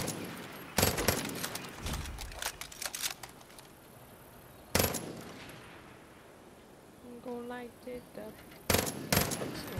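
Gunfire in Far Cry New Dawn: a few sharp bursts of rapid shots with quiet stretches between them, plus a brief tonal game sound in the middle, fairly faint overall.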